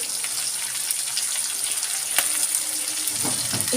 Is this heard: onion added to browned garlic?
yes